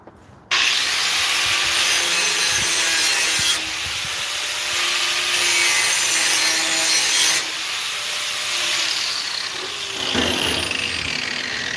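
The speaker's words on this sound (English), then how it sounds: "I want to get the whole blade on there to come across it and really give it a good sharpen" A blade edge sharpened with long continuous strokes of abrasive rubbing, loud and close, with brief changes between strokes and no talking.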